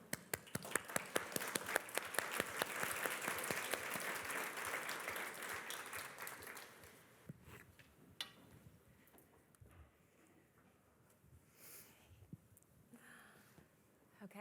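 Audience applause greets panelists walking onto the stage at a Berkeley corporate governance forum. Dense clapping builds for about seven seconds, then thins into a few scattered claps.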